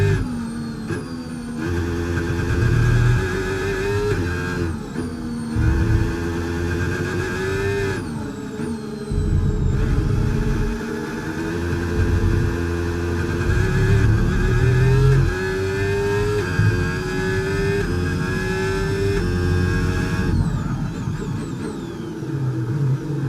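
F1 race car from the F1 25 game overtaking in a Ferrari during driver career mode, loud high-revving engine whine rising and dropping through gear shifts, continuous and close with no voices.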